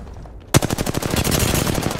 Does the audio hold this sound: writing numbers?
no